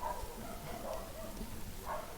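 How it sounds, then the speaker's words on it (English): Faint dog barks and yips in the distance, a few scattered calls over a steady background hum. "The dogs are barking."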